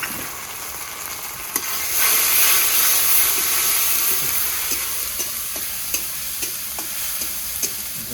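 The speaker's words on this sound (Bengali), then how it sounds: "পেঁয়াজটা আমার ভাজা হয়ে গেছে, এখানে দিয়ে দেবো আদা রসুনের পেস্ট 2 চামচের মতো" Ginger-garlic paste frying with already-fried onions in a pan makes a loud, steady close-up sizzle and hiss, swelling briefly, with faint stirring clicks throughout and no voices.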